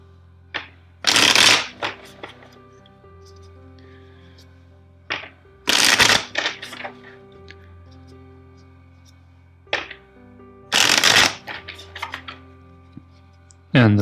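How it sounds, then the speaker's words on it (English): A tarot card deck is shuffled in three distinct bursts of riffling, crisp and close, separated by quieter taps and soft handling clicks of the cards. "First, let's shuffle the deck four times for you."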